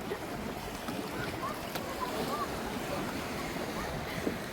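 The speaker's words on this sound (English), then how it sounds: "here the waves are too strong" Strong sea waves surge near the shore off Mallorca, a dense, rushing wash with wind buffeting, heard close with faint voices now and then.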